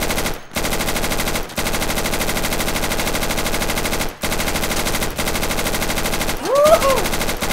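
Rapid automatic gunfire from the video game Insurgency, sustained and loud across the whole stretch with a few brief gaps between bursts, a voice briefly audible near the end.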